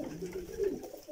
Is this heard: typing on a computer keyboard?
no